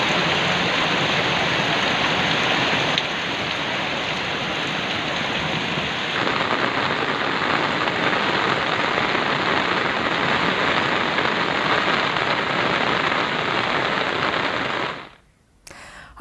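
Heavy, incessant monsoon rain in Guwahati, Assam, pours in a steady, dense roar with no voices, holding unbroken at close range for about fifteen seconds before cutting out abruptly.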